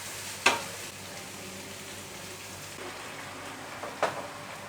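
Ginger-garlic paste with softened tomato and onion sizzles faintly in a pan, a soft steady frying hiss with a couple of brief scraping stirs.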